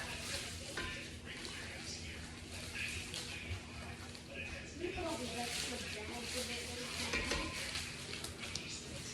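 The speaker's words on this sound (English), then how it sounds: "And then I'm gonna put these shallots in there that I've cut up." Garlic cloves and chopped shallots sizzle and fry steadily in a pan, a soft continuous crackle with occasional stirring scrapes, fairly quiet and with no talking.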